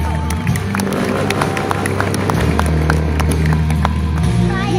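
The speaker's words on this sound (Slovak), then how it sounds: "Obrovský aplauz pre Richarda Mossy!" A crowd at a motorcycle stunt show at the Nitra auto fair applauds and cheers, broad clapping and crowd noise over a low engine rumble, with some voices in the mix.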